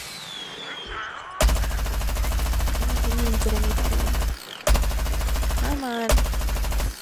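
Rapid, continuous automatic gunfire in Plants vs. Zombies, loud sustained bursts with brief gaps between them, while a player speaks briefly over the shooting.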